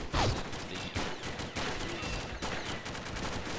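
M4 Super 90 shotgun firing in a video game: several sharp blasts in a loose rhythm roughly every second, punchy and close, over steady game background noise.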